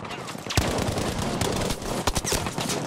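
Gunfire in the video game Battlefield 5: several sharp shots and short bursts crack out at irregular intervals over a busy, noisy game soundscape.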